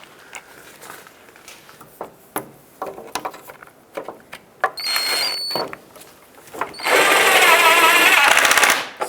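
A ratchet tightens the serpentine belt tensioner bolts on a 2003-09 Toyota 4Runner: scattered sharp clicks, then a loud, sustained burst of rapid ratcheting near the end.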